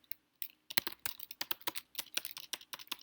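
Python code being typed on a computer keyboard: a close, rapid series of crisp keystrokes in an uneven rhythm, with no talking.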